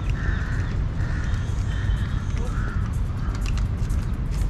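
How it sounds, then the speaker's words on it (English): Several crows cawing in a repeated series of harsh calls over a loud, constant background rumble. "Oh, there's crows."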